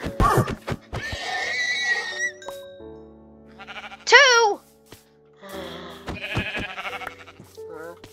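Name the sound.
horse whinnying in video game Minecraft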